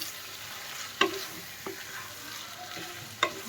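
Chicken stomach and liver are stirred in a hot pan, with a low, steady sizzle running throughout and a few spatula scrapes and knocks against the pan.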